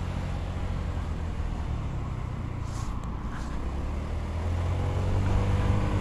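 A Honda PCX 125 scooter pulling uphill at full throttle, a steady droning engine note under wind rush that rises slightly in intensity toward the end.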